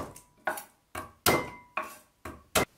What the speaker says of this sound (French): J'écrase 4 gousses